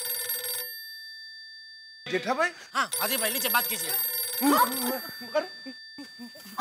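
A telephone bell rings sharply for about half a second before cutting off, and then a lively indoor conversation between several men takes over while a faint tone lingers.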